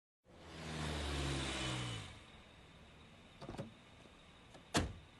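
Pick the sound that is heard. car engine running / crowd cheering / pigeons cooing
car engine running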